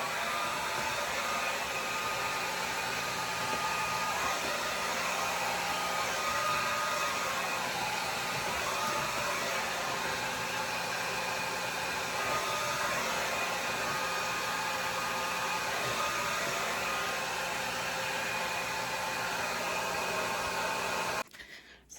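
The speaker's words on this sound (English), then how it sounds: "blow dry some of my hair." Hair dryer blowing on someone's hair, a loud steady airy whoosh that runs unbroken for about twenty seconds before cutting off abruptly at the end.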